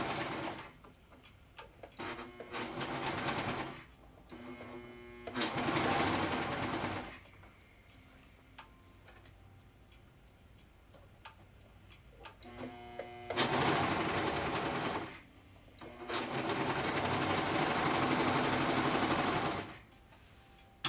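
A sewing machine runs in several sustained bursts while hemming fabric edges, with pauses between runs; fairly loud and close, no talking.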